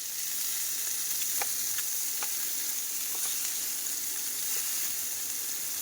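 Chopped onion, garlic, green chili and ginger fry in a pan, giving a steady, close sizzle with faint crackles and the occasional stir.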